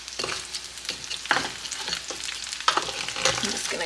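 Roasted beef bones sizzle in a roasting tray as they are scraped and loosened, producing irregular close crackling with sharp scraping knocks and clatters against the metal.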